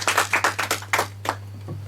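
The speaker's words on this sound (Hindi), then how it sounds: "जोरदार ताली हो जाए सपने के लिए।" Quick burst of applause from a quiz-show audience, a short patter of claps over about a second that thins out and stops.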